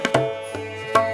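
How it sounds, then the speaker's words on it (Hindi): A few tabla strokes ring out, sharp pitched drum hits with a resonant humming decay, spaced irregularly and played close by. "एकदम से पहचान लेते कि तबले की आवाज़ है"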